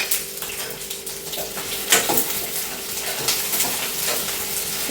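Steady hissing sizzle of green chillies, ginger and garlic frying in a pan for paneer masala gravy, with faint clinks of utensils and no voices.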